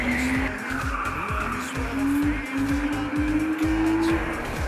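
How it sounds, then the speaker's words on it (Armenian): A car drifts sideways around slalom cones at the 2016 Kirovakan autocross, its tires squealing in a long rising whine over a loud, rhythmically pulsing engine, steady and close throughout. "Նա սկսում է կողասահքով շրջանցել բաժանարար կոները."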